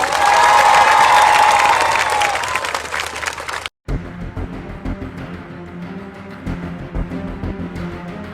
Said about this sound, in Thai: คุณเบญจาแสงจันทร์ปรบมือดังๆหน่อยครับ